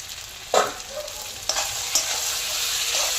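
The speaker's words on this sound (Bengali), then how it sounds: "এবার আলুটা দিয়ে আমি 5 মিনিট ভালো করে নেড়ে নেব।" Fried potatoes are stirred into braised mutton in a pan, with a steady sizzle and several scraping stir strokes spaced about half a second apart, close and clear with no talk.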